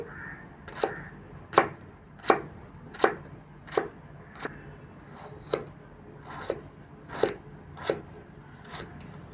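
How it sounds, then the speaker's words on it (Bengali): A knife chopping ridge gourd on a board: about a dozen crisp, evenly paced cuts, close and clear against a quiet room, no talk. "ছুরিতে ভালো কাটা হচ্ছে ঝিঙ্গে কেটে নিচ্ছি"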